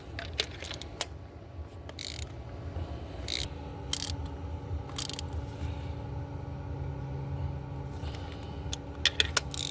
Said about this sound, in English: So all I have to do now is just torque them with my ratchet.